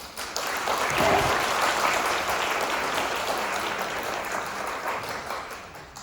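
Applause for Professor Jeon Young-soo after a lecture, a warm, sustained round of clapping from a seated audience that swells early and then holds evenly.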